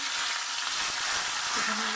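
Bay leaf dropped into hot oil in a wok, a loud steady close-up sizzle and crackle that runs unbroken through the moment.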